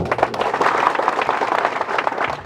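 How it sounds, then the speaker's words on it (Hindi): Audience applause at a public address for World Tribal Day in Damjipura, Madhya Pradesh, a steady crowd of hand claps at moderate loudness, continuous and dense with no one speaking over it. "अपनी ताली नहीं बजाएगी"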